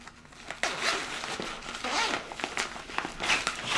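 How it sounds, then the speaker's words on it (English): A zipper is pulled open or closed on the small fabric pouch of a foldable travel pillow, a close, rasping zip with uneven bursts running for several seconds. "Zipper."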